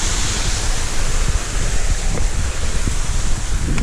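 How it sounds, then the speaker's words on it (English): Steady rushing water roars continuously from a waterfall on Tom's Run flowing out from under a road in Cook Forest State Park, a broad wash of noise close by, with no voices. "Waterfall coming from underneath the road."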